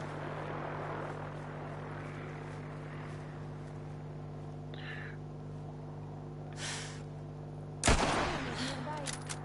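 In the Fallout 4 video game, an aircraft drones overhead with a low steady hum, then a sharp loud burst of gunfire breaks in near the end, followed by a few more quick shots.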